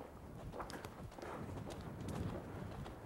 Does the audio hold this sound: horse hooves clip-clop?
yes